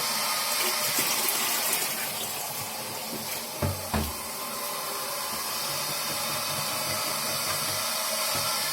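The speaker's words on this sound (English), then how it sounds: "Okay, so just pour it all in." Liquid poured from one container into another during home ethanol making, a steady broadband gush of flowing, splashing fluid running for several seconds with a couple of brief knocks midway.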